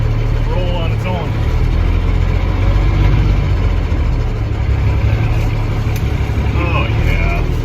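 A semi truck's heavy diesel engine rumbles steadily at low speed as the truck rolls, a constant deep drone with faint higher squeaks and rattles over it.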